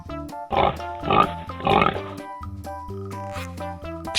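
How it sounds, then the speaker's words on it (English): Three loud grunting bursts from a pig come close together near the start, over continuous background music that carries on alone afterwards. "This is a pig."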